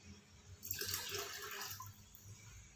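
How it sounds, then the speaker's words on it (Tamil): Liquid banana peel fertilizer is poured into water, a soft splashing gush that swells for about a second and then fades to a quiet trickle, heard faintly and with no talking. "அதுலேயே வந்து எடுத்து வச்சுட்ருக்க இந்த ஃபெர்டிலைசரையும் கலந்துக்கிறேன்."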